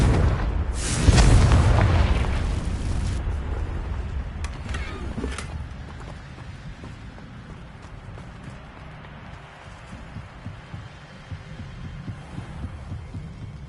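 A Confringo blasting spell from Hogwarts Legacy goes off in one loud, deep boom that fades slowly into a low rumble and a quiet hum.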